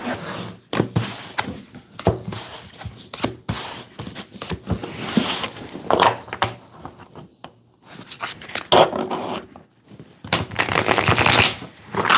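Tarot cards shuffled by hand at close range, with bursts of riffling and flicking, softer sliding and tapping between them, and no talking.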